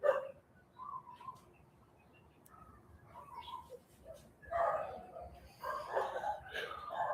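Dogs bark in short scattered bursts in the distance, fading toward quiet, with a voice talking nearby and birds calling in the background.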